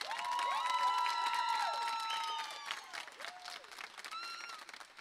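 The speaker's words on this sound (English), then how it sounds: "Please give these guys another round of applause." Audience applause at a school music and arts ceremony, soft clapping blended with whistles and cheering voices that gradually thins out, sounding somewhat distant.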